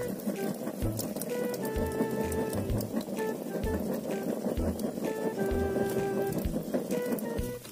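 Steady bubbling and crackling of water at a rolling boil with shells cooking in it outdoors, a continuous dense patter with occasional low pops, close by and moderately loud.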